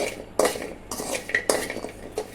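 Dry ginger roasts in a pan while a metal spoon scrapes and stirs, giving several sharp scraping strokes spaced unevenly with quieter rustling between, close and fairly loud, no sizzle.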